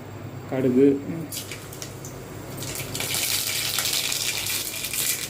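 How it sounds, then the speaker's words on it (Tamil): Mustard seeds hit hot oil for beetroot poriyal. After a brief spoken phrase, a bright crackling sizzle starts up and keeps spluttering steadily, close and fairly loud. "எண்ணெய் காஞ்சிச்சு, கடுகு"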